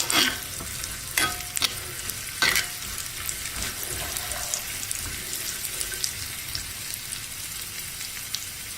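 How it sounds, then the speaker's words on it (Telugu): Cashews and raisins frying with coconut pieces in a pan for payasam: a continuous sizzle with several sharp stirring scrapes early on, then a steady crackling fry with no talk. "జీడిపప్పు కొద్దిగా వేగాక దీనిలో కిస్మిస్ని వేసి వేయించుకోవాలి."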